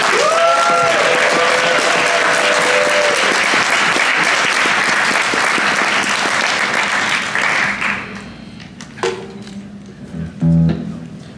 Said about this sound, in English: please, one more giant round of applause for all of the breakpoints